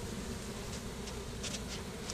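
A small swarm of bees moving out of a shed wall, heard as a steady, dense insect buzz that holds throughout with no talking.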